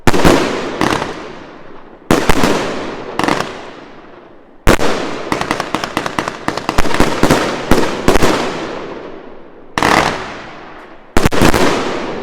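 A 100-shot Gemstone Fireworks barrage cake at a Bonfire Night display fires loud sharp cracks, some single and spaced, others in rapid crackling volleys, each bang trailing off in a fizzing echo, with no talking over it.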